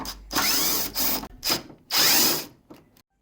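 A bolt under a Golf Mk3 VR6 comes loose with bursts from a power drill or impact tool, four buzzing runs with short gaps and a faint final click, loud and close.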